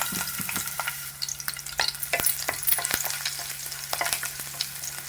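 Chopped onion and green chillies fry in a tablespoon of oil in a kadai, giving a steady close sizzle broken by scattered crackles and light stirring clicks, with no talking.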